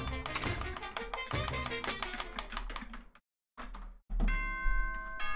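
Danganronpa 2 video game audio: a dense run of bright chiming music hits, a brief silence, then a sustained ringing ding-dong chime swelling loudly at the end.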